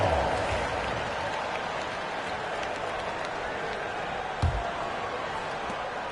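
Basketball arena crowd applause from a Miami Heat game keeps up as a dense, steady wash of clapping and crowd noise, with a brief thud partway through and some speech mixed in.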